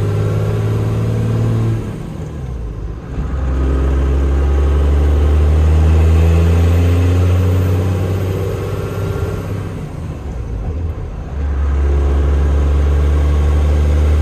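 A diesel truck with a 12-valve Cummins engine runs through its gears, giving a deep, loud, close drone that climbs in pitch and dips between shifts, with brief quieter gaps.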